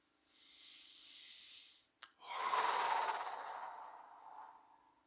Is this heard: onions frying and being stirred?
no